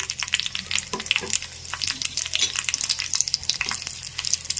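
Dried red chillies fry in hot oil for vakkaya pachadi with a dense, crackling sizzle that holds steady up close and carries no voices.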